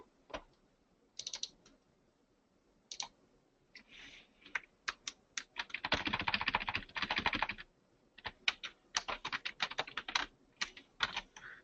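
Soft, close computer keyboard typing in scattered bursts of quick keystrokes, with a denser run of rapid clicks midway and brief pauses between, alone without voices.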